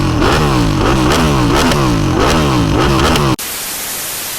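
A Ducati Panigale 1299 S superbike engine revs hard in repeated rising bursts, loud and close, before cutting abruptly to a quieter hiss near the end.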